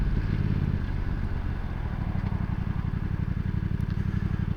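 A VOGE 900 DSX motorcycle rolls along with a steady low engine throb and pulsing rumble, gradually slowing as it pulls over, heard close with no voices.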